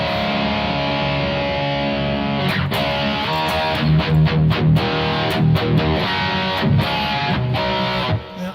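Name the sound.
guitar tone from Roland Boss eBand JS-8 Tone Journey preset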